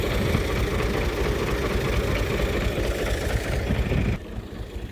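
A tractor engine runs steadily at close range, a dense low rumble that holds for about four seconds before cutting back sharply to a quieter idle.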